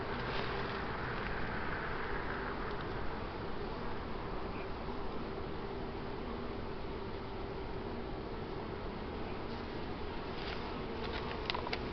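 Honey bees buzz steadily around an open hive during a frame inspection, a dense, continuous drone close by with no talking.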